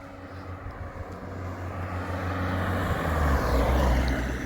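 A vehicle approaches along a road at the top of a hill in a small Spanish village, its engine and tyre rumble swelling steadily louder, close and alone with no talk.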